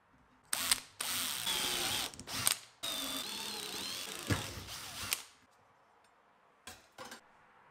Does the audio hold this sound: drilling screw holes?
yes